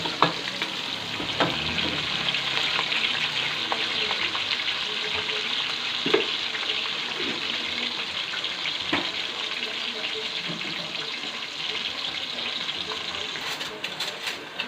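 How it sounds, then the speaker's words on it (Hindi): Chopped medium-sized onion frying and browning in a pan, a continuous close sizzle with frequent stirring scrapes and spoon knocks, steady and fairly loud throughout. "हमने एक मीडियम साइज़ की प्याज को काट के डाल दिया है, जिसको अच्छे से हम ब्राउन कर लेंगे"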